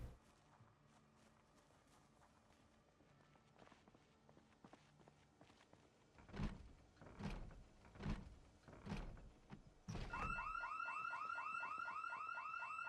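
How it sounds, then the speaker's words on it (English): An in-game house alarm in Project Zomboid suddenly blares, a loud, rapidly pulsing electronic siren that cuts in after a run of heavy, thudding footsteps and door sounds. "These house alarms have not been kind to us these last 2 days."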